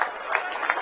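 Crowd applause welcoming a party president at a BJP event, a steady wash of many hands clapping at moderate volume, continuing briefly without pause.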